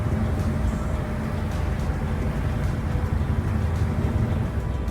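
Steady low rumble of a ferry's engine with wind and water noise as the boat nears the landing on a crossing to Washington Island, Wisconsin, a continuous loud drone throughout.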